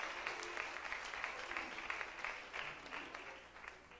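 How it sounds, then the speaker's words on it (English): A church congregation gives a clap offering to Jesus during a sermon: quiet, steady clapping from many hands, heard from some distance. "Give Jesus a clap offering"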